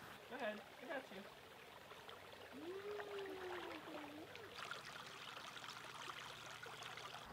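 A waterfall beside a New Hampshire campsite gives a steady, soft rushing wash throughout, heard under a voice that rises and falls over it.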